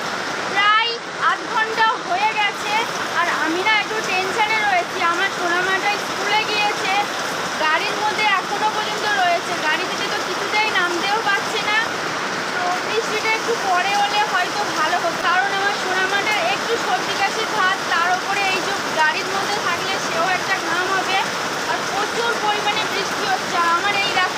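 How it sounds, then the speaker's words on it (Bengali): Heavy monsoon downpour pours continuously, with runoff splashing down a flight of stairs in a dense, loud, unbroken wash of water. "প্রচুর পরিমাণে বৃষ্টি হচ্ছে মানে সেই বৃষ্টির সীমা নেই মুসলধারে বৃষ্টি যাকে বলে"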